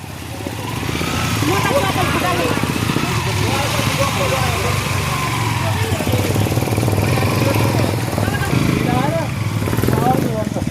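A motorcycle labors along a rough, difficult dirt trail, its engine droning loud and continuous at close range with rattling, while voices talk throughout.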